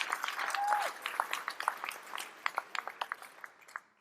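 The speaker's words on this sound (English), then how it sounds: "So maybe a round of applause for Neural Sense." Audience at a customer insights awards ceremony clapping, a moderate roomful of hands that thins out into scattered individual claps near the end, with a brief tonal sound early on.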